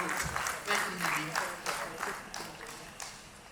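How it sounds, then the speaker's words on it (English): Audience applause fills a keynote hall at an Indian electronics and semiconductor event as the speaker takes the stage, a steady moderate clapping from a sparse crowd with small swells throughout. "Let us welcome Mr. Navin with a warm round of applause as he takes the stage"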